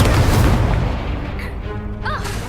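In Hogwarts Legacy, casting the Incendio fire spell sets off a loud, close booming burst followed by a crackling, fading fiery roar, with a brief swooshing flourish near the end.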